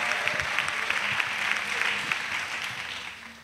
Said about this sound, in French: Encourageons les semeurs avec acclamation